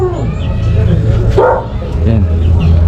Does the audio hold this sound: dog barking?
yes